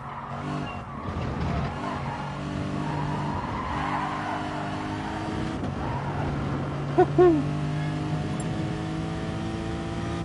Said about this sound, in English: Braking on the rumble strips, probably not the best idea.